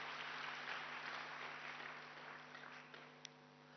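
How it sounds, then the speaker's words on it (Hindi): An audience claps together at a spiritual yoga talk, a dense steady patter that gradually thins and softens toward the end, ending with a few scattered claps. "चलो सच बोला, इनके लिए भी ताली बजाओ"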